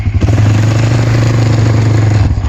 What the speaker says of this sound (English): this is just a quick little riding video on Honda Recon 250.